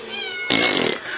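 Cat meowing, one loud drawn-out meow close by that rises over a held, tonal voice and then fades out within about a second.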